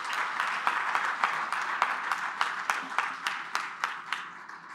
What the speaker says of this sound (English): another round of applause for Honorable State Minister as she takes a seat